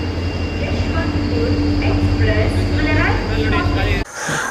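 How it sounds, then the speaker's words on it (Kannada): A train arrives at a station on the Dudhsagar falls route, rumbling loudly and steadily nearby with a humming engine drone and rattling, while people talk over the noise. "ನೋಡಿ ನಮ್ಮ ಟ್ರೈನ್ ಬಂತು ನೋಡಿ ಇವಾಗ."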